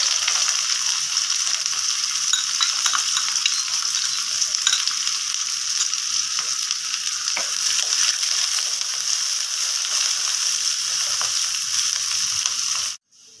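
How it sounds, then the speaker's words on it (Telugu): Onion frying in hot oil with cinnamon, cardamom and black pepper for millet khichdi, a steady, close broadband sizzle holding evenly throughout before cutting off abruptly at the very end, with no talking. "మనకు ఆయిల్ వేడెక్కింది. దీనిలో మనము చెక్క, యాలకులు, నల్ల మిరియాలు వేసాము. దాని తర్వాత ఉల్లిపాయ వేసాము."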